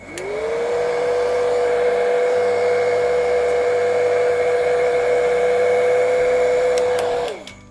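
A hair dryer blows steadily on wet acrylic paint for about seven seconds, a loud continuous whirring hum that starts abruptly and cuts off at the end, with no talking.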